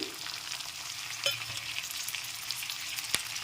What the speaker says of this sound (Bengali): এখন দিয়ে দিচ্ছি টমেটোর টুকরো